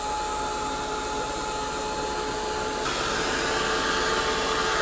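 A hair dryer blows continuously over a wet art journal page, a close, steady whooshing roar that brightens slightly partway through, with no talking.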